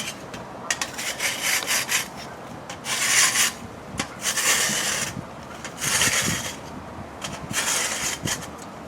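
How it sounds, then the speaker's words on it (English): Grill scraping tool dragged along the grooves of Char-Broil infrared grill cooking grates, giving close, gritty rasping strokes in repeated bursts with short pauses between them. "The scraping tool just goes along in the grooves."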